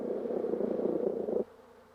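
A honeybee scout performing a waggle dance in the hive gives off a steady, pulsing buzz that is fairly close and continuous. It cuts off abruptly partway through, leaving only a faint background hum.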